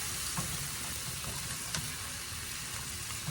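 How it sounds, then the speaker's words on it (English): Chicken sizzles steadily in a hot pan with lemon juice while being stirred, a constant loud frying hiss with faint scrapes of the stirring. "All right, I'm going to stir it around in here."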